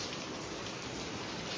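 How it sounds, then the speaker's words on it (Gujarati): Rain falls steadily, a dense, even hiss of drops pattering on surfaces close by, brief and uninterrupted with no voices. "જો વરસાદ ચાલુ થઈ ગયો,"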